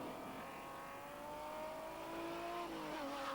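BMW M3 rally car driving on a stage at the 1988 Boucles de Spa rally, its engine revving loudly and pitch sweeping up and down through gear changes at close range.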